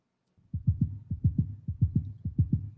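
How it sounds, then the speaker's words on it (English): Heartbeat sound effect from an Unreal 5 film, a steady lub-dub pulse of deep, soft thumps in close pairs, loud and close, starting after a brief silence and repeating evenly with nothing else heard. "So we have a heartbeat here."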